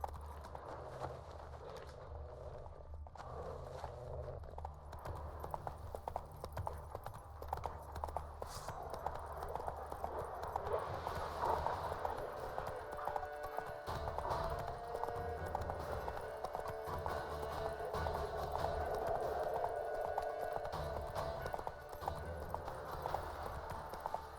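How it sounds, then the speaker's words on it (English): A horse gallops in The Witcher 3 video game, its hooves beating a steady, continuous clip-clop over a constant bed of game ambience and music. "Run, Roach."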